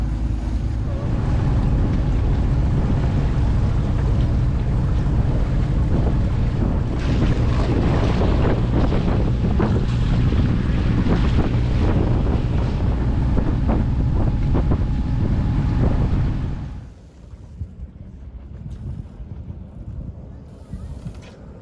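Wind buffets a sailboat at sea off the Norwegian coast near Nesna, a loud, roaring rush of wind and water noise that fills most of the stretch before dropping suddenly to a quieter background near the end.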